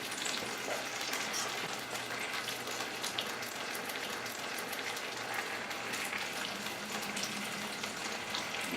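Corn fritters frying in a pan make a steady, faint crackling sizzle with scattered spits and pops, continuous throughout and heard alone without talk.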